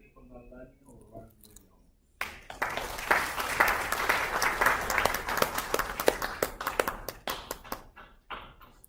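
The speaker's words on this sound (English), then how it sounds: "So we give applaud and aloha to our Hililani Konalani or Ronald." Audience applause at a Hawaiian cultural gathering on Maui, a dense burst of clapping that starts abruptly after a moment of quiet and keeps going steadily near the listener, with a voice heard faintly before it begins.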